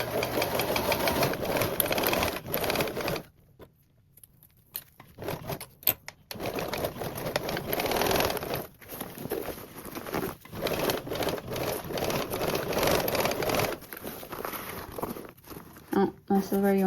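A sewing machine stitches a duffle bag in uneven bursts of rapid mechanical clatter, with a brief pause, while someone talks over it.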